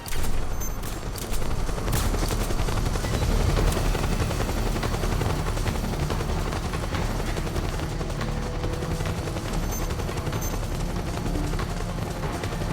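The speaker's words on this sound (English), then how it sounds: "Helicopter man." Helicopter from the video game Metal Gear Solid 4, heard as a continuous loud rotor drone mixed with dense bursts of machine-gun fire and explosions in a battle scene, running steadily throughout without speech.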